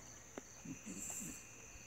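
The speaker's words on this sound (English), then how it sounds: "The crickets are like, what do we do now?" Crickets chirping at night in Sylva, North Carolina during an eclipse, a faint steady high trill carrying through a quiet outdoor setting with a few soft low thumps.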